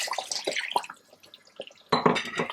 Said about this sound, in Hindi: अब इसमें आप ऐड करेंगे पानी।